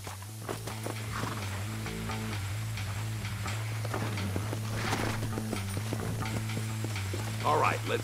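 Steady hoof clip-clops from horses in the video game Red Dead Redemption under a constant low musical hum, with a voice speaking briefly over the steps.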